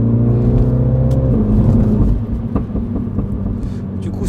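A Mini John Cooper Works car engine revs, a loud close rumbling tone that drops after about two seconds into a lower idle burble with faint background sounds.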